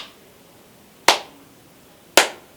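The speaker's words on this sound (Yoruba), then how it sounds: "kí wọ́n pàtẹ́wọ́ báyìí" Two sharp, separate hand claps ring out about a second apart, crisp and close with quick decays, during a ritual in the Yoruba town of Aje in Oyo State; no voices are heard.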